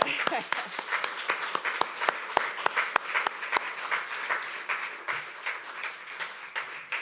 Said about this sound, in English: Let's clap to each other.